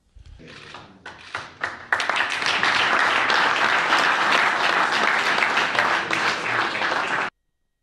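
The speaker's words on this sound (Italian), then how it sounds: "Applausi più che meritati per Bruno Conti." An audience applauds Bruno Conti at a sold-out event, starting with scattered claps that swell into loud, dense, steady applause before cutting off abruptly.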